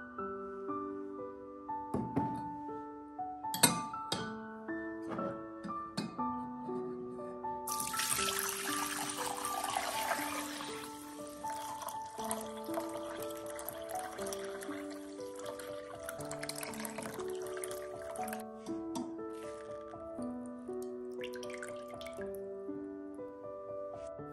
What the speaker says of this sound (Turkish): Şimdi bu gübreyi süzeceğim. Posasından ayırmamız gerekiyor.